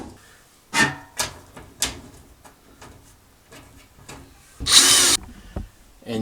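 Power drill driving screws back into a dryer panel: several short, sharp whirs close by, separated by clicks and handling noise, ending with one louder, longer burst.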